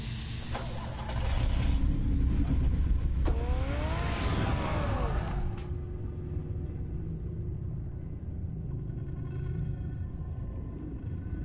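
The Batmobile's engine in a Batman video game rumbles and revs as it drives off, with a loud accelerating roar and tire squeal early on, then settles into a steady low drone.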